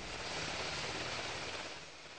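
Helicopter rotor and engine noise at a landing site on a golf course in Port-au-Prince during an aid delivery, a steady broadband roar held close and loud throughout, easing slightly toward the end.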